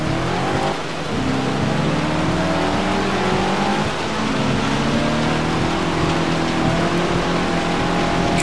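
A 1964 Ford Fairlane Thunderbolt drag car on the Hockenheimring short circuit, its big engine roaring loud and close under hard acceleration, with rising gear pulls and only brief dips.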